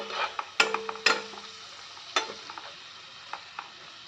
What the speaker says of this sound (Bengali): চিংড়ি মাছ, শুকনো লঙ্কা, কাঁচা লঙ্কা কুচি, পেঁয়াজ কুচো সব একসাথে একটু ফ্রাই করে নিতে হবে